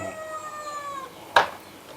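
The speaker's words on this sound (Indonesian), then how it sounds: "tuh kucing di bawah sudah dikasih makan" A cat downstairs gives one drawn-out, falling meow, moderately loud and alone, followed by a short sharp knock.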